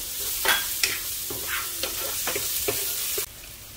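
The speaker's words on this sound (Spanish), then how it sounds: "vamos a primero a poner a sofreír lo que es la cebolla" Onion sautéing in a hot pan for Guatemalan jocón makes a steady sizzle, broken by repeated sharp scrapes and taps of a spoon stirring, heard close and without voices.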